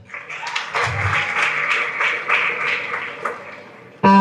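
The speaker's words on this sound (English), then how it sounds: "Kindly let's clap for her as she comes to the front" Applause from a conference audience at a Kenya Model United Nations gathering greets a panelist, a moderate, even clatter of many hands lasting about four seconds before a voice cuts in.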